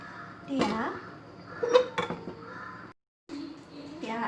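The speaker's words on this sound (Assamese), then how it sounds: "এয়া সৰু কেৰাহীটো পাতি ল'লোঁ লুচিৰ কাৰণে" A small metal wok for frying luchi is set down on the stove with a few close, sharp metallic clanks and knocks, amid light kitchen clatter.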